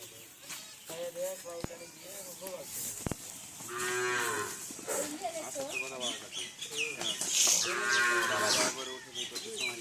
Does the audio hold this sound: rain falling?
no